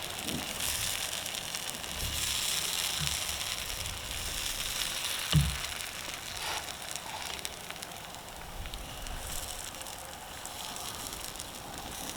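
A sausage-stuffed blueberry muffin sizzles in a pie iron over a campfire, a steady close hiss and crackle with one sharp pop partway through, no voices.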